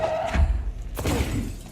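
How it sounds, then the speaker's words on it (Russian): A single burst of breaking glass in the video game Control, with a dull thud just before it. The crash rings out loud and close, then fades quickly. "Стекло разбивать можем?"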